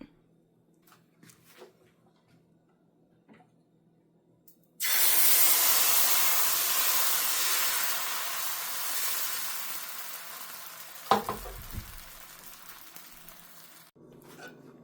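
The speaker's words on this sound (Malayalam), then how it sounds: "ഇനി അടുത്തത് ഇതുപോലെ തന്നെ നമുക്ക് കോരി ഒഴിച്ച് ചുട്ടെടുക്കാം" Wheat dosa batter hits a hot pan with a sudden loud sizzle that holds steady for several seconds, slowly easing, with a brief scrape partway through before the sound cuts off.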